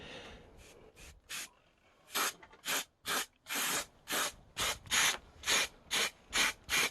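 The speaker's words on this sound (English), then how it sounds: "we want to just shake our can of spray adhesive there" A can of heavy duty upholstery spray adhesive rattles as it is shaken, then gives a run of about ten short, loud hisses in a steady rhythm, close up with no talking.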